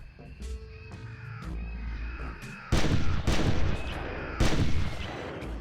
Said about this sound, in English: A lucky throat shot drops the smaller predator